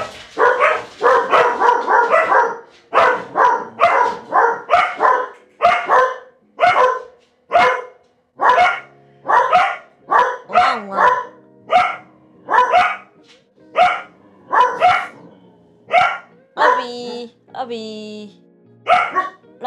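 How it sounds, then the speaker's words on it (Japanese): A dog gives a long run of short, soft woofing barks in a steady rhythm, close by, with occasional whimpery tones, mixed with a person talking nearby. "犬が吠えそう、なんかワフワフ言ってる、少し。"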